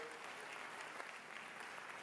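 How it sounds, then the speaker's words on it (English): Teachers in a school district gathering applaud their human resource manager with steady, dense clapping that holds at an even level from start to finish. "Let's give Tunde a round of applause."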